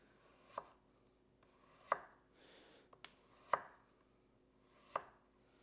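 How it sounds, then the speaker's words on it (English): A Matsato kitchen knife slices food thinly on a cutting board, giving four sharp, separate chops at a slow, even pace, close and quiet, with soft scraping between them. "Let's give the Matsato a go with some thinner slices."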